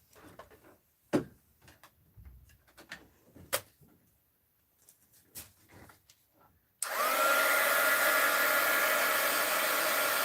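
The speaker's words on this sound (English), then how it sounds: "Hit it with my heat gun." A heat gun blows hot air as a loud, steady roar that starts abruptly after several seconds of quiet handling noises and continues without a break, aimed at paint on a mixed-media art journal page.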